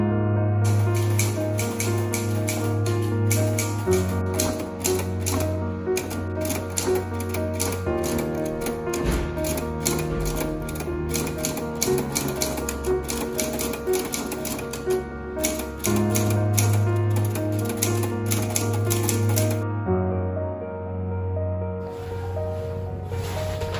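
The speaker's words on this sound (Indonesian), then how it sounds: "Soekarno memerintahkan Sayuti Melik untuk mengetik teks proklamasi" A manual typewriter clatters steadily through a proclamation text in a dramatized independence scene, keys striking in dense rapid bursts with brief pauses, loud and close over a low steady hum.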